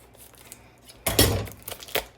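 Quiet rustling, then a sudden burst of crinkly cutting and tearing as scissors open plastic cheese packaging, followed by a few sharper snips near the end.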